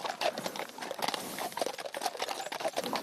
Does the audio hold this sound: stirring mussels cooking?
no